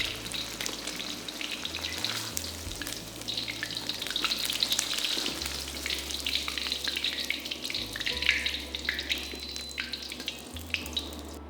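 Fish fries in hot oil in a pan, giving a continuous soft crackling sizzle that holds steady at low level with a faint low hum underneath.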